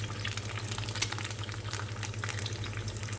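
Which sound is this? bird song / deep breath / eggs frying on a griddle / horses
eggs frying on a griddle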